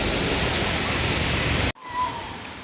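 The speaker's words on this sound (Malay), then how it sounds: "Air mengalir" River water rushes over rocks at Ulu Bendul, a loud steady broadband roar close to the microphone that cuts off abruptly, then resumes softer and more distant.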